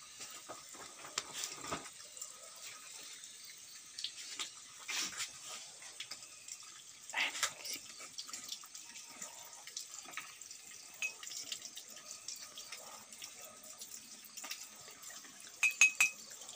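Dishes washed under a running tap at home, a faint steady trickle of water with scattered clinks and splashes of plates and utensils throughout.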